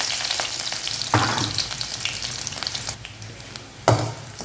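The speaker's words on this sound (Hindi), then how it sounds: "तो मैं ये अब लहसुन भी इसमें डाल रही हूँ" Crushed garlic hits hot oil in a pan for bathua kadhi, giving a continuous loud sizzle with sharp bursts and crackles as it fries and is stirred, without any talking.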